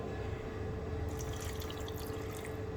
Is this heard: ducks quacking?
no